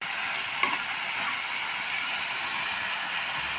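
Bottle gourd peel frying in a pan gives a steady, even sizzle, with one brief scrape of stirring near the start and no voices.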